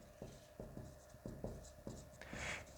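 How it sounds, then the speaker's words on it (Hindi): Marker or chalk strokes on a classroom board during a lesson, a series of short scraping scribbles in an irregular rhythm, close and clear, with no talk over them. "तो हम इसको ऐसे लिख देते हैं"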